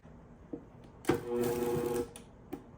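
A Vitamix blender blends homemade cream cheese in a single short whirring burst of about a second, with faint clicks and knocks before and after.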